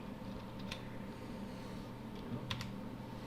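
Someone types on a computer keyboard, with a few scattered, faint clicks over a steady background hum, spaced out like single letters pressed slowly.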